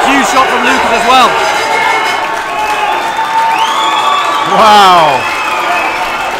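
Fight-night crowd at a Combat Challenge Leeds bout roaring, cheering and applauding, with loud whoops rising and falling under a commentator's close voice exclaiming over it.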